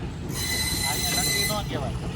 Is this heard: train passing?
yes